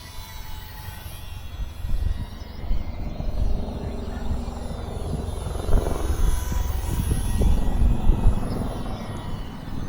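A Parkzone Ultra Micro Spitfire Mk IX radio-controlled model plane flies with a steady, moderately loud propeller drone that swells and fades slightly as it passes.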